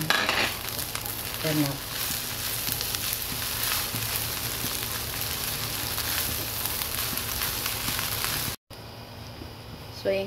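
Beans frying in a pan for a chowfan-style breakfast fried rice, a steady close sizzle with stirring scrapes throughout, a single brief spoken word, and a sudden cut near the end before the sizzle resumes faintly.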